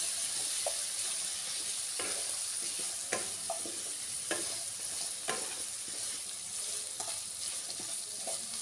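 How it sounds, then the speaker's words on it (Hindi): Potatoes fry in a pan for a potato and capsicum dish, with a constant bright sizzle broken by several spatula scrapes and stirs at irregular intervals, heard close, with no voices. "आलू को अच्छी तरह से मिक्स करेंगे।"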